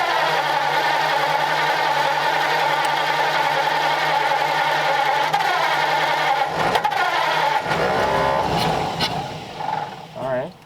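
A 1939 Ford convertible, long abandoned, cranks repeatedly with the throttle wide open as it tries to start, a steady loud starter drone that cuts out near the end, with voices talking over it.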